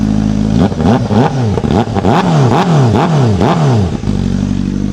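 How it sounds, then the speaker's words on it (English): Honda motorcycle engine revved hard in a rapid series of about eight sharp blips rising and falling in pitch, loud and close, settling back to idle at the end. "Let's have a little rev up of this."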